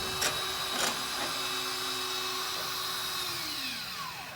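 A power drill whines steadily and close by as it taps through a pipe with a Ford Meter SIMTAP tool, its pitch sliding downward near the end as it slows.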